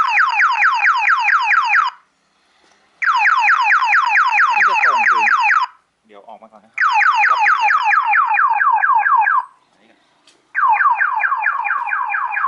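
Modified long-range car alarm blaring in four bursts of rapid, shrill warbling chirps separated by short pauses, loud and close, with faint clicks in the gaps.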